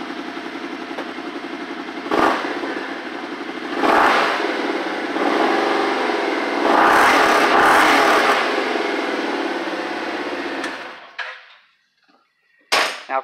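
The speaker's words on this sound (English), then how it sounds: "Give it a couple revs for you here." A 2018 Kawasaki Teryx-4 long-travel UTV with exhaust baffles in idles close by, then revs in several short, loud blips and a longer rising rev before the engine cuts off into near silence.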